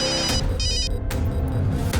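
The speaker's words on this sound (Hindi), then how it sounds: "सरस्वती, अगं मोबाईलची रिंग वाजते" A mobile phone rings inside a home, its electronic ringtone sounding in repeated bright bursts, fairly loud and close, with no one talking over it.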